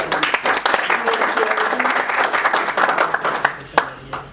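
An audience at a talk on net worth and investing breaks into a round of applause. Dense clapping continues through the whole stretch with a few voices mixed in, then thins out toward the end.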